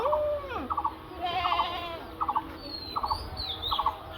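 A goat kid bleats briefly in a rural village yard in Naogaon, Bangladesh, amid repeated short bursts of chirping from ducklings nearby, all fairly close with no talking.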